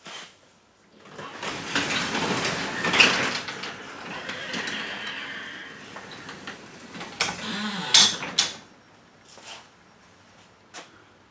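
A garage door opener drives a reconnected door after repair of a stuck unit, giving a steady mechanical whirring and rattling for several seconds, then a few sharp clicks and clunks as it stops.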